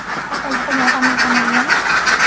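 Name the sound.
ducks on a duck farm, about 4,000 birds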